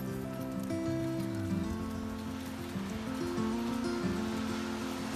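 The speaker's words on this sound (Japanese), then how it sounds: "ちょっと雨降ってるんでね" Light rain falling steadily outside an animal hospital, a continuous patter on surfaces with a low rumbling background and no talk.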